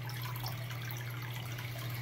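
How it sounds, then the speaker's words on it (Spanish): Water pumped up from a lower pump and running continuously through a homemade blue shrimp tank system, a steady low hum with a soft, even rushing flow throughout. "lo que yo me he inventado para que el agua esté fluyendo siempre"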